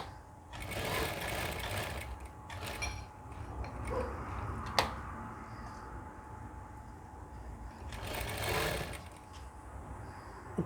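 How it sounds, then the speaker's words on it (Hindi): A sewing machine stitching a shirt cuff runs steadily with a fast mechanical whir, surging louder in a few short bursts and easing between them, close and fairly quiet with no talk over it. "चारों साइड से आप इसको इस तरह से सिलाई मार लीजिए।"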